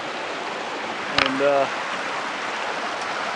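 Steady creek water rushing where a trail crosses at the bottom of a creek, a constant broadband wash filling the whole clip, briefly overlaid by a short spoken word and a sharp click.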